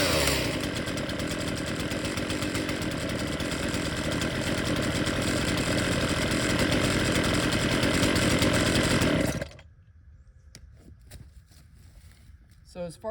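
A chainsaw roars loud and close for about nine seconds, then cuts off abruptly, leaving quiet room tone with faint knocks.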